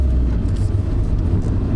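A Nissan Primera GT P11 sedan's engine rumbles loudly from inside the car, a heavy low drone with light throttle under way and no talk.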